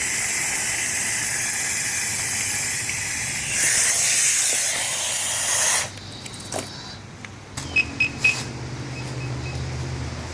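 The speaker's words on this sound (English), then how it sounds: "opening the bypass valve" A firefighter's breathing apparatus bypass valve is opened during firefighter-down CPR training, releasing a loud, steady rush of hissing air that swells midway and cuts off after about six seconds, followed by a few faint clicks and a quieter background.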